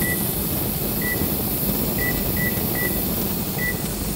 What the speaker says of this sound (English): I don't know if you can hear the steam, but I think you should be able to.